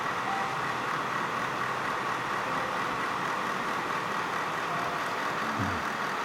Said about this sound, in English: Hear the fans blowing just nicely.